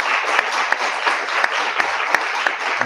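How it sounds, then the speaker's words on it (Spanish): Steady applause from a sizeable lecture audience, dense and even, with a few sharper individual claps standing out; no talking. "despedimos a Marina con un fuerte aplauso y..."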